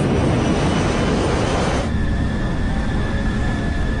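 An Airbus airliner on Aeroflot Flight 593, stalled and twisting down in a corkscrew dive from 6,000 meters, makes a loud, steady roar of engine and rushing air that stays even throughout, with no voices.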